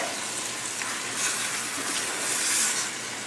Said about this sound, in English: I'll just saute this